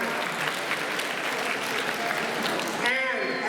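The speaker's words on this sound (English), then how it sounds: "They're clapping." Middle school assembly audience clapping, a steady crowd of hands applauding throughout, with a voice starting to speak over it near the end.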